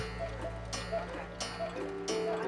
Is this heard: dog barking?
no